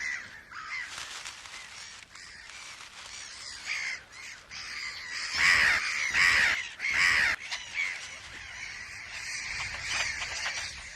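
Mediterranean gulls cry over their breeding island in a salt lake on the Hungarian puszta, harsh repeated calls that come in bursts, a few loud and close, others fainter, with no voices.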